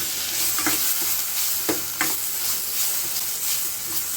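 Tomato frying in a pan with garlic and curry leaves, a steady close sizzle broken by a few scraping stirs of a spoon, with no voices.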